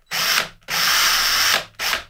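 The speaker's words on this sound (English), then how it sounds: "put the string tree in. So where's my little drill?" A small drill bores a hole for a guitar string tree on a guitar kit build, three loud close whirring bursts with short pauses between them and no speech.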